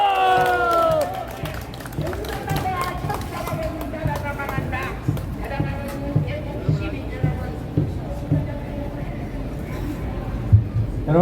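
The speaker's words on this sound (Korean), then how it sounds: "큰 박수 부탁합니다" A crowd at a large outdoor political rally in Korea in June 2023 cheers and claps in a steady, dense roar, with a voice and sustained tones at the start and scattered sharp shouts and claps throughout.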